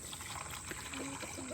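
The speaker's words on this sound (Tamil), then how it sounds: "இட்டதுக்கப்புறம் வந்து தண்ணி இடணும்." Water is poured into a pressure cooker already filled with vegetables, giving a soft, steady trickling that runs for a second or two at moderate distance.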